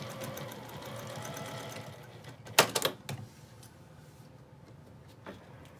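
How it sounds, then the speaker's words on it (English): A sewing machine stitches a quarter-inch seam on a zippered fabric pouch, a steady faint whir that ends in a few louder clunks and clicks as it stops; no one speaks. "Okay, then we're just gonna sew that with a 1/4 inch seam."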